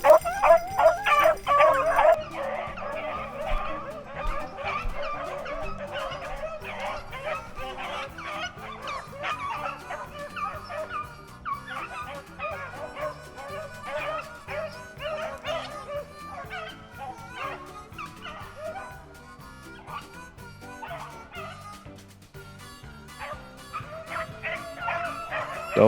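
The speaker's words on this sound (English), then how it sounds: "Dogs are working on one right now." Hunting dogs bay, bark and yip on a rabbit's trail during a morning rabbit hunt, a steady overlapping chorus of barks and howls at moderate distance that carries on throughout.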